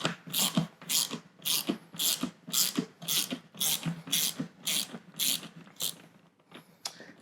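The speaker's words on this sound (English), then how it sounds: "I'm going to go ahead and just loosen all 4 wheels." A socket wrench ratchet loosens the main wheels on a Gratz Pilates reformer. About a dozen evenly spaced, rasping clicking strokes sound close up and fade toward the end.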